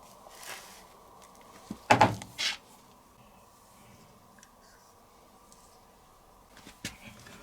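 The detergent drawer of a Servis Quartz 6030/6031 1000-spin 4kg washing machine is pulled out with one short plastic clunk and slide, close by in an otherwise quiet room with a few faint ticks.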